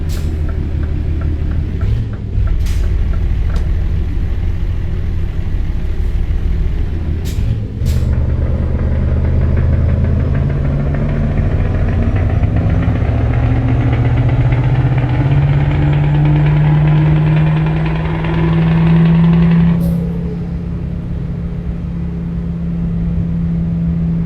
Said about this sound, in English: Man, that Jake brake sound, wow. This is the beauty or the beautiful part of driving a V8 engine.